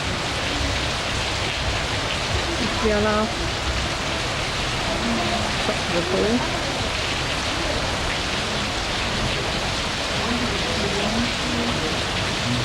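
Steady, heavy rain hissing on surfaces throughout, in Myanmar, with a person speaking briefly over it.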